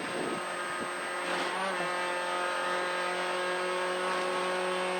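A NASA TT6-class NB Mazda Miata race car at Ozarks International Raceway holds a steady, high-revving engine drone at full throttle for the whole stretch, loud and close from inside the cockpit with no talk.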